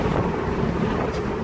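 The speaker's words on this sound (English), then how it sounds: "Quite windy." Gusty wind buffets the microphone at a campsite with a hammock, a loud, continuous low rumble with no voices over it.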